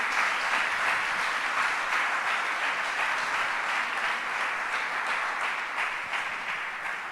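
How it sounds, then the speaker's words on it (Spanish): A church congregation applauds loudly at a sermon, dense sustained clapping from many hands filling the room and easing slightly toward the end. "Le da un aplauso fuerte a él."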